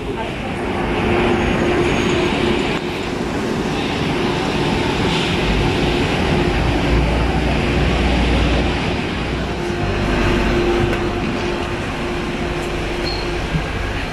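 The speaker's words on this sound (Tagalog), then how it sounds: "So, ito yung loob ng tren." A steady, loud rumble fills the interior of a moving passenger train, a constant roar of wheels and carriage noise with a faint tonal hum and voices mixed in.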